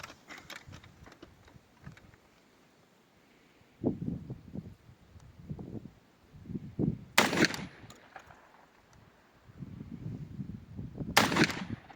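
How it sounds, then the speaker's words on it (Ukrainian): Two sharp, loud 12-gauge Locatelli shotgun blasts firing 32-gram slugs ring out about four seconds apart, with low muffled sounds and faint voices in between. "дуже комфортний постріл"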